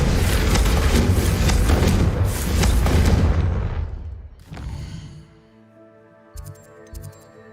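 A Confringo blasting spell from Hogwarts Legacy erupts in a loud, sustained booming explosion that roars for a few seconds, then decays into a ringing, tonal tail with small sparkling bursts.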